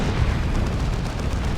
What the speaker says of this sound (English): There's a rocket run.